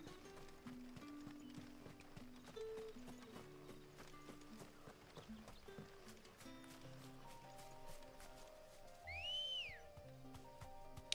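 Chocobo mount footsteps in a video game, rhythmic hoof-like clip-clops running under game music and chimes, fairly quiet, with a rising whistle-like tone near the end.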